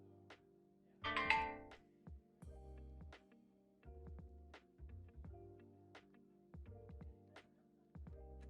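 A phone ringing in a workshop, a short tonal jingle that repeats in steady, evenly spaced bursts, clear and fairly close with a quiet background between rings.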